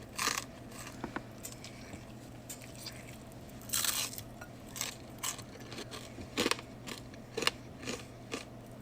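Greasy fried food with grilled onions is crunched while eating, with scattered crisp bites and crackles over a low background hum, close but fairly soft, no talking.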